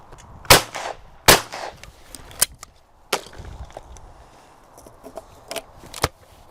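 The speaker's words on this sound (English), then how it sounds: "I'm just going to shoot a few through it" A Silma shotgun fires several sharp, loud shots at irregular intervals, each one a sudden blast with a short echoing decay outdoors.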